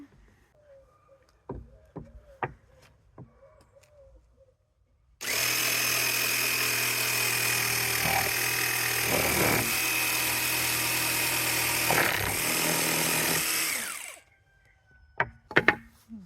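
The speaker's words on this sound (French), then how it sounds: "Ensuite, on va couper la planche." A power saw rips through a wooden plank for a bird feeder, starting abruptly and running at a steady loud whine for about nine seconds before winding down, framed by a few light knocks and handling clatter.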